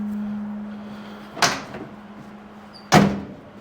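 A door on a dented-side Ford truck under rocker panel repair shuts twice, each a sharp thunk and latch click, with a steady low hum running underneath throughout.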